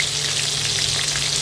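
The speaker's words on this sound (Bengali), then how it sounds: "এদিকে মাছগুলো ভাজা হচ্ছে" Fish pieces frying in oil in a pan give a steady, close, even sizzle with no pauses and no voices.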